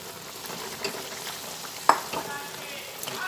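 Fried flat beans added to a simmering mustard-poppy sauce in a pan, giving a steady low sizzle and bubbling with a few soft clinks and one sharper clink partway through.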